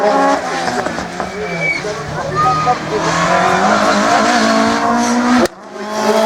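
A race car in the F2000 group runs a slalom course at the Pays d'Ancenis event, its engine revving and climbing in pitch with tyre squeal under a voice, then abruptly cutting off near the end.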